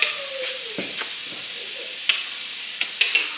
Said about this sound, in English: look at that chicken sizzle